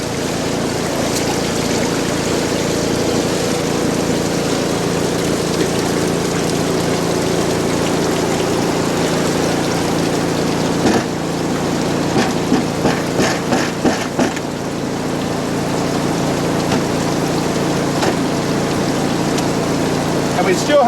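Water runs steadily through a high banker during gold prospecting, a continuous rushing wash with pump-like hum, with a few brief clattering knocks midway.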